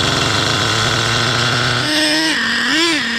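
A Traxxas Revo 3.3 nitro RC truck engine idles with a loud buzzing drone, then revs up and down in two rising, wavering swells, close by and with no talking.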